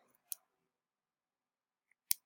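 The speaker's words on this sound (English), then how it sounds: "I'm going to use my scissors." Dissection scissors snip frog tissue in two short, crisp clicks spaced well apart, close and quiet against near silence.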